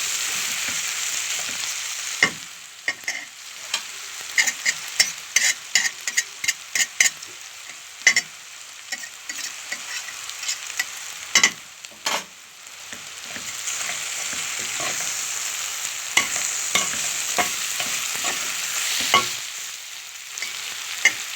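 Potatoes and sausage fry in a pan with a steady, close sizzle, broken by frequent scraping stirs and clicks from a utensil throughout, with no talking.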